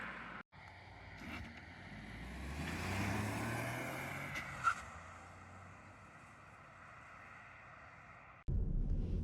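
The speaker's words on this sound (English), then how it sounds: "let's go and let's drive the SKODA FABIA on the road" A 2024 Skoda Fabia 1.0 TSI driving on the road, a quiet, smooth engine and tyre hum that swells gently as it pulls away and then settles into a steady low cruising drone, with no voices.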